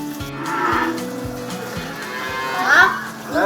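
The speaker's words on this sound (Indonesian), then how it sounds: "Di kandang ini paman memelihara 20 ekor sapi perah." Dairy cows in a village barn low and moo in long, deep, droning calls, loud and close, with one rising call near the end and no talk over them.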